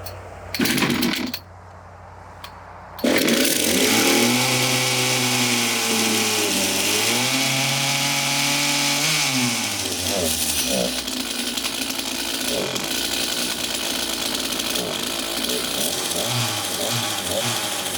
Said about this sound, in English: You do want to make sure on these chainsaw winches that the clutch is disengaged when you try and start it for the first time